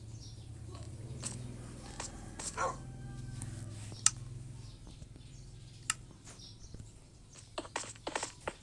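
A dog in the Minecraft video game gives several faint, short barks and yips scattered through the stretch amid quiet game ambience and a low background hum.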